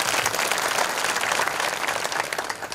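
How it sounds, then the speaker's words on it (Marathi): An audience at a kirtan gathering claps loudly and steadily, a dense sustained wash of applause with no break. "टाळी वाजा तुमच्याकरता."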